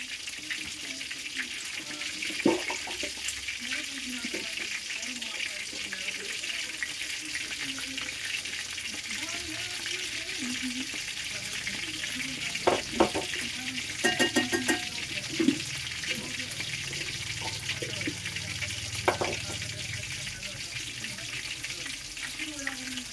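Batter of flour and egg frying in a pan, a steady soft sizzle running throughout, with occasional clinks and stirring sounds; a voice speaks faintly at moments.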